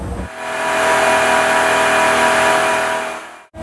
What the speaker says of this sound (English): almost instantly rev the engine to any speed we want or decrease the engine speed to any speed we want